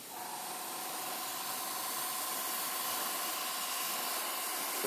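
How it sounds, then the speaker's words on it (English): Steady aerosol spray paint hissing close up as a heavy coat goes onto a scale model, a continuous even rush of air lasting throughout with no talk. "spray painting heavy coat."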